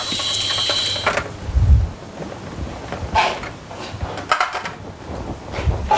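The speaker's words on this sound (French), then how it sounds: "on les rafraîchit rapidement sous l'eau froide" Cold tap water runs over blue lobster pieces in a kitchen sink, a close, splashing stream with clunks and handling noises.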